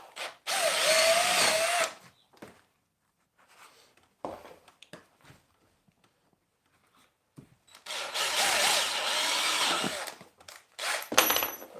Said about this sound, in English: Two screws. The reason why I'm screwing it on